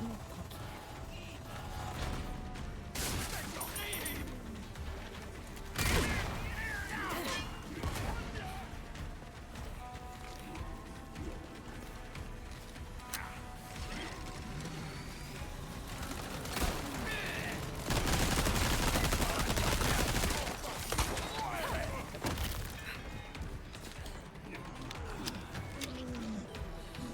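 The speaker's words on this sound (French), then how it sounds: "Il y a l'autre avec son minigun qui est là." Sustained gunfire with a minigun in the video game Resident Evil 4 Separate Ways, dense and loud over a long stretch with rattling bursts and a heavier barrage near the end, mixed with game effects.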